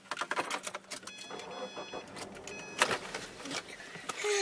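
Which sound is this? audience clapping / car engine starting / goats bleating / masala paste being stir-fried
car engine starting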